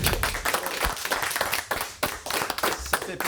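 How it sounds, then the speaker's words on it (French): A TV studio audience claps during the season finale of a French show, with close, uneven bursts of hand claps that swell and dip, and occasional speech mixed in. "Les applaudissements, ça fait du bien"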